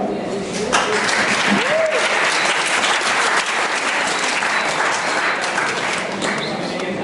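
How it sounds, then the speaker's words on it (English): Audience clapping at a students' human rights convention in Mumbai, a sustained, even burst of many hands in a hall, with a voice speaking briefly over the applause. "This is one place where you can clap."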